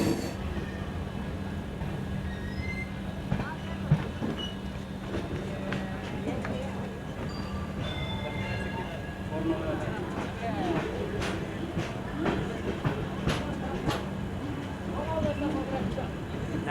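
A steady rumble and clatter of the moving Hassan–Solapur SuperFast Express train carries throughout, with rhythmic wheel noise and occasional higher squeals, while voices chatter faintly in the background.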